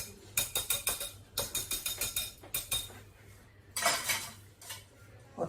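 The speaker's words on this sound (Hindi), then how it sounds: "चम्मच लेके चम्मच के साथ सारे फ्रूट को ऐड करेंगे" A spoon knocks and clinks against a bowl while adding fruit to a creamy salad, giving quick rhythmic bursts of metallic taps with brief pauses, then a longer scraping clatter, close up.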